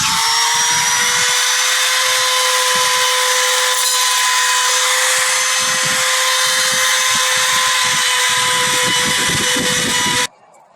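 Router rounding over the edge of a wooden board for a swingset, a loud continuous high whine holding steady for about ten seconds with rough cutting texture underneath, then cutting off sharply.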